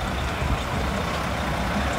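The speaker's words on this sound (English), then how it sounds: "There's a tractor trailer that pulls the Georgia Bulldogs football equipment." Tractor trailer hauling the Georgia Bulldogs football team's equipment, a steady heavy engine drone and road rumble, loud and continuous with no pauses.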